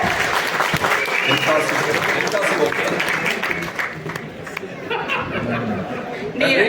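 Audience applause in an event hall in Dubai for a speaker. Loud, full clapping mixed with crowd chatter and some laughter runs for several seconds and fades slightly near the end.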